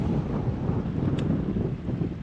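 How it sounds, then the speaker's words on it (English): Strong wind blows steadily across Lake Hemet, a loud continuous rumble buffeting the microphone with no voices. "So the wind's blowing this way"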